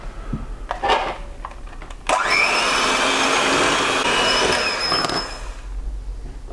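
Double cream being whisked with an electric mixer, a loud steady whir that starts after a few clattering knocks, runs for about three seconds, then tapers off.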